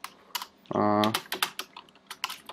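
Quick bursts of computer keyboard typing while writing Swift code in Xcode, close and crisp, broken by a short electronic tone in the middle.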